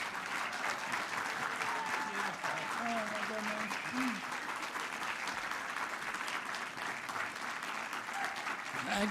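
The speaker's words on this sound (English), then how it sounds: "please stand up and give him the applause and the thank you he deserves" A large crowd applauds for the Secretary of Health and Human Services, a steady wash of clapping and some cheering that holds the whole time, heard from some distance and fairly faint overall, with a voice briefly audible underneath.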